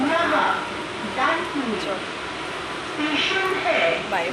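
A train rumbles at Sealdah station amid busy platform noise, with people talking over it close by.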